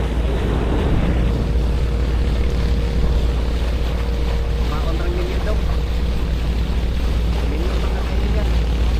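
A large fishing boat's engine drones steadily and loudly at sea on the Pacific, a constant low rumble with wind and water noise, while voices talk over it.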